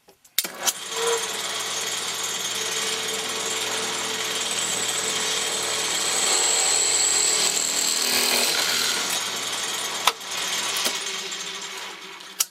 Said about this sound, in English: I'm going to drill out the part which is right now electrodeposited